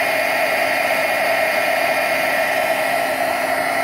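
Up close, a heat tool melts recycled rubber powder with a loud, constant, breathy roar and a slight tonal hum. It holds perfectly steady from start to finish with no pauses or voices.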